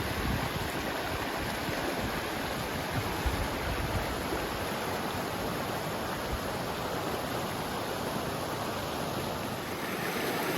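Creek water rushing steadily at a backcountry creek crossing on a Colorado mountain trail, a continuous close, even wash of flowing water with no other sounds.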